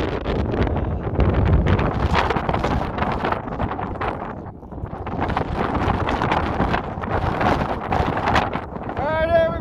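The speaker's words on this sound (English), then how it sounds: "Not only is it windy, but it's getting windy." Strong wind roars and buffets the microphone continuously on a mountain summit, loud and gusting, with a brief lull partway through.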